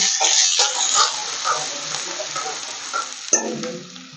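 Okra sabzi sizzles and crackles in overheated oil, close and bright, with stirring scrapes at regular intervals and a sharper burst of sizzle near the end.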